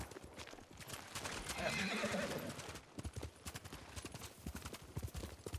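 Several horses gallop in Ghost of Tsushima, the hoofbeats rapid and busy, with a horse whinnying partway through amid a rumbling, clattering backdrop.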